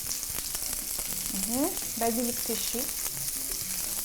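Onion sautés in a pan with salt, pepper and dried basil, crackling with a constant close sizzle as a voice briefly speaks over it.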